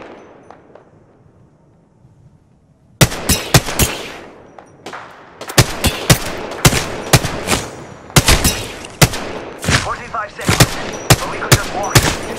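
Rapid bursts of gunfire in Apex Legends, loud and close, begin after a quiet stretch and continue in repeated sharp volleys over a steady background.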